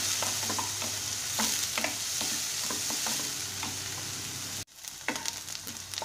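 Onions frying in a pan for fish kachori filling, with steady close sizzling and repeated scraping stirs of a spatula, the hiss briefly cutting out near the end before resuming with more stirring.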